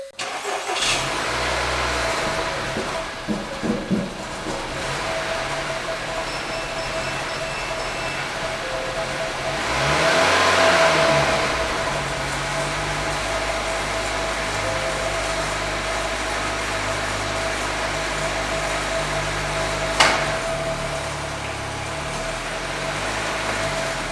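An Acura RDX A-Spec that had not been running cranks and starts, then settles into a steady mid-pitched idle heard close, with a brief swell of revving partway through and a sharp click near the end.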